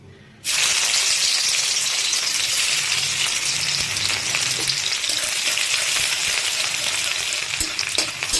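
Chopped garlic hitting hot oil for baigan bharta, a sudden loud sizzle that holds as a steady, close frying hiss.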